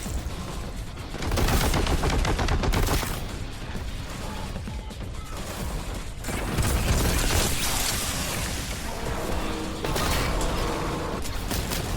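Dense, loud gunfire and explosive blasts from the video game Warhammer 40K Boltgun, continuous bursts of shooting layered with crashing impacts and mechanical clatter.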